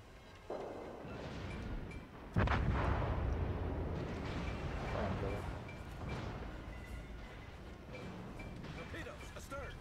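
Naval cannons fire in the warship game World of Warships, a few deep booms and muffled blasts standing out over a low rumbling battle background, fairly faint overall, with players talking over the action.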